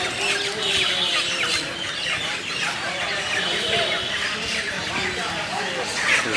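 At a chicken stall in Kolkata's New Market area, chickens cluck and squawk continuously, forming a busy, steady bed of sound with market voices murmuring underneath.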